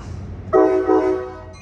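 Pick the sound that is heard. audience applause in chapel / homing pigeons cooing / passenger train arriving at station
passenger train arriving at station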